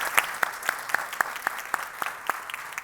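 Audience applause at the close of a panel discussion at a conference session on financial sustainability: crisp, evenly spaced claps in a steady rhythm, fairly sparse, clear and alone without talk.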